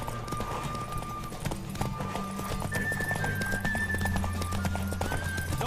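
Rapid, rhythmic hoofbeats of a horse at full gallop in the video game The Witcher 3: Wild Hunt, steady and close, with a faint musical tone running underneath.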